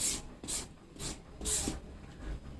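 A new papaya shredder rasps against papaya in four quick, separate grating strokes, a close and fairly faint scraping rhythm.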